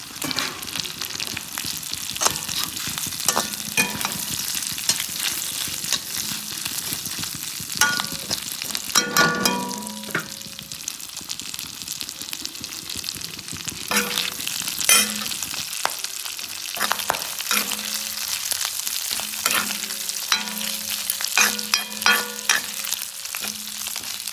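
Pre-fried fish heads frying in a pan, a continuous crackling sizzle with repeated scraping and clinking stir strokes against the metal, close and fairly loud.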